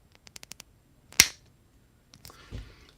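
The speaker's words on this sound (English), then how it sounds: "Here we go, here's the clicking sound." A Teela Turtles of Grayskull action figure's shoulder joint gives a run of small sharp clicks, then one louder crisp snap, followed by faint handling rustle and a soft scrape.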